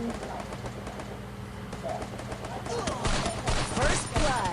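Bursts of video-game gunfire crackle through the second half, growing denser and louder under ongoing talk and ambient game noise.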